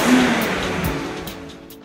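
A 2008 BMW 328i convertible with a 3-liter inline six making 230 horsepower is being driven, giving a steady, fairly loud hum of engine and road noise that eases slightly toward the end, with no talking.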